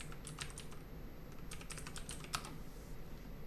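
Computer keyboard typing on the Hacker Typer website, quick clusters of light key clicks close by and fairly quiet, with brief pauses between bursts.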